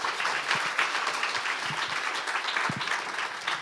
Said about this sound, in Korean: 오늘 자리해 주신 세 분께 큰 박수 한번 부탁드리겠습니다.